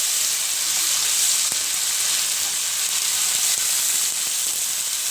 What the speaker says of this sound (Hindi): और अब इसको अच्छी तरह हम अदरक लहसुन के साथ भी भूनेंगे।